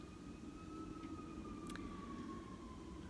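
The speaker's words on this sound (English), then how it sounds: "I hope whoever is on the receiving end of those sirens is okay." Emergency vehicle sirens wail in the distance as a faint, steady, drawn-out tone that holds for the whole stretch above a low background hum.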